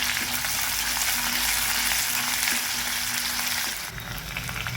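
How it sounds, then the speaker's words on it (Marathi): Chopped onion frying over a medium flame in a pan for spicy fried liver, giving a loud, steady sizzle that runs unbroken and close, then dips slightly near the end. "आता इकडं आपण हा कांदा टाकायचा एक कांदा कापला होता कांदा चांगला होऊ द्यायचा"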